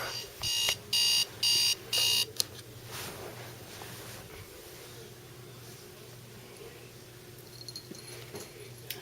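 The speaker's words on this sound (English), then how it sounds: "Or my alarm clock?" An electronic alarm clock beeps in four loud, evenly spaced bursts, then stops, leaving a quiet room with faint background hum.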